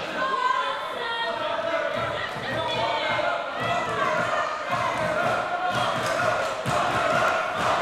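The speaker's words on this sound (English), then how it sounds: "Crowd are calling for Nightshade to knock her out." Wrestling crowd at a women's bout between Nadia Sapphire and Nightshade, a loud, steady roar of chanting and shouting with thuds from the ring and a commentator talking over it throughout.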